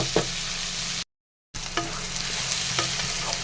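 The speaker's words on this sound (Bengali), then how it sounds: "তো এটা একটু ভাজা করে নেব" Food sizzles steadily in a hot pan while a utensil stirs it with soft scraping clicks. The sizzle breaks off for a moment of silence, then resumes.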